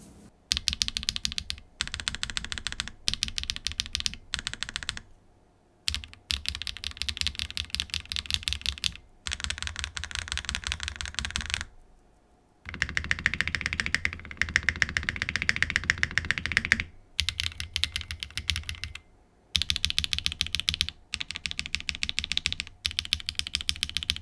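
Mechanical keyboard with a half plate and insert, typed on steadily in dense, clattering bursts of keystrokes with spacebar thocks, broken by short pauses, close and alone.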